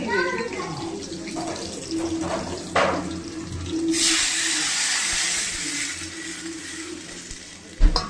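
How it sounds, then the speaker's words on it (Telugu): Water pours steadily into a pan of roasted ingredients on a home kitchen stove, a sustained hissing rush that runs for the second half after some clinks, with a person talking over it. "వాటర్ వేసింది మా మమ్మ"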